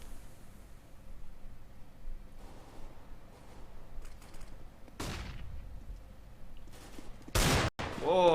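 Shotgun blasts from a Nova in a Counter-Strike: Global Offensive match on the Mirage map: a sharp shot near the middle, then a loud close burst of gunfire near the end, over low game ambience.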